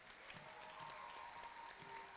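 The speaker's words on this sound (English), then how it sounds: "Round of applause, please." Crowd applause from the audience at an elementary school play, a faint, steady wash of clapping that continues for the whole clip without pause.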